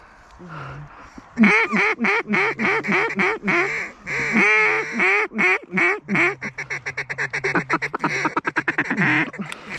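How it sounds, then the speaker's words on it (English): A group of wood ducks calls in a rapid, fairly close run of squealing quacks and whistles while flying in on a windless day, calls crowding together then thinning into quick pulses. "We had a group of wood ducks with this no wind."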